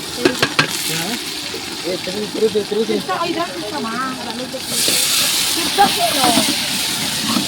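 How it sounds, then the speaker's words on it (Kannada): A tempering of mustard seeds, curry leaves, onion and tomato hisses and sizzles in hot oil, with a louder burst of steam toward the end, while people talk over it throughout. "ಒಗ್ಗರಣೆ, ಈರುಳ್ಳಿ, ಟೊಮೆಟೊ, ಕರಿಬೇವು, ಸಾಸಿವೆ."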